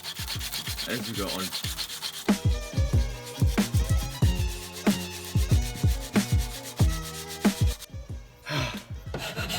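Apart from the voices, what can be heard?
sanding a wooden knife handle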